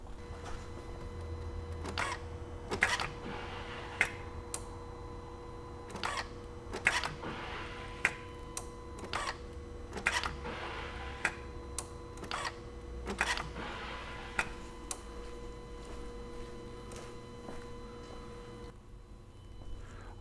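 A 2004 VW Jetta TDI with a BEW engine has its key cycled repeatedly, and the fuel pump whirs in short bursts each time, paired with clicks over a steady low hum. The bursts repeat quickly and evenly at close range, with no talking.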